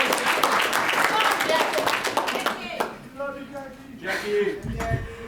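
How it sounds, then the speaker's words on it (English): An audience at a recovery convention meeting gives a round of applause, dense clapping that fades after a few seconds into scattered claps, with a voice speaking under and after it. "give her a round of applause"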